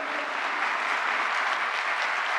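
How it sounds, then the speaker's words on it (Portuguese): Audience at an official event applauding Brazilian students, with dense, continuous clapping at an even level throughout. "pedir uma salva de palmas aos nossos estudantes brasileiros aqui presentes."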